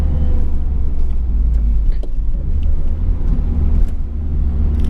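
A 1997 Nissan 180SX Type X engine drones steadily while driving, a loud, close, low rumble with road noise and no talk over it.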